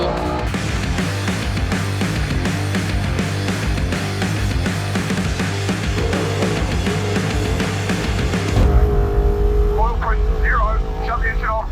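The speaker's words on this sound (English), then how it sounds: "Shut the engine off." A truck engine drones loudly and steadily at close range during an off-road pre-run ahead of a desert race in St George, with a D-MAX and trophy trucks involved, then cuts out and the idle fades as a voice speaks.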